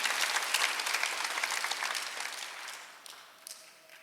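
A church congregation applauding during a Sunday worship service, a dense steady wash of many hands clapping that gradually fades over a few seconds, with no voices over it.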